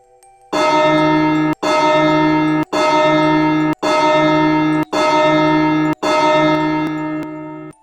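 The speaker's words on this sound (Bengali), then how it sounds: "সেদিন ভোর তিনটের সময় তিনবার ঘন্টা না বাজিয়ে ছয়বার ঘন্টা বাজল" A bell strikes six times at a steady, even pace, each loud ringing toll sustaining with a bright metallic hum until the next, the last one fading slowly.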